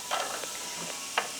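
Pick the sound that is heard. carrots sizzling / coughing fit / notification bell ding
carrots sizzling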